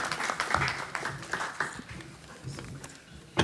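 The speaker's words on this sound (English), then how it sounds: "I'd like to give a round of applause to our esteemed panelists." An audience applauds panelists at a community forum, a moderately loud patter of clapping that swells and fades over a few seconds in an indoor room.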